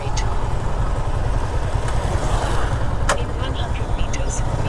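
A Yamaha R15 V2 motorcycle engine runs at idle nearby, a continuous low rumbling drone with a few sharp clicks on top, steady throughout.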